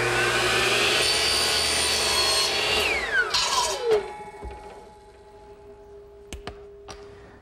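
Miter saw with a stop block cutting wood strips into 1.5-inch pieces, three at a time: a loud, steady motor whine through the cut, then the pitch sliding down as the blade spins down, followed by a few sharp clicks and knocks.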